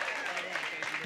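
Audience applause and cheering for a contestant at a game show on a cruise ship, a dense, continuous wash of clapping lasting about a second, loud and close.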